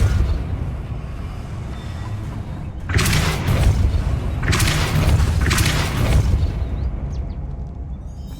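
Depulso spell blasts in Hogwarts Legacy, a booming magical burst that erupts and pulses in a few strong waves over a low rumbling game backdrop, then fades.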